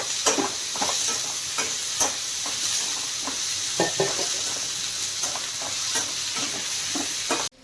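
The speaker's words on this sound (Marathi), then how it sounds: "त्याच्यामध्ये 2 कांदे चिरलेले आहे, लाल होईपर्यंत कांदा हे सर्व भाजून घेऊया व्यवस्थित" Ginger and chopped onions fry in a pan with a steady, close sizzle while a spatula stirs in regular scraping strokes over the constant crackle.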